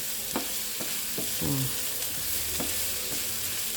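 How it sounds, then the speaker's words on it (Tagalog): A spoon turns frying food over in a pan, lifting what sits at the bottom to the top, giving a steady hiss with several distinct scraping knocks spaced across a few seconds, close and clear. "Ganito yung paghalo anak ko, hindi yung puro ganun."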